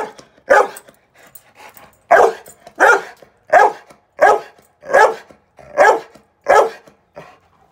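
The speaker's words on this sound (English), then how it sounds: "That's his strong bark." A dog barking hard and loud close by, a series of about nine deep, forceful barks at a steady pace, with small whimpers and yips between, no talking.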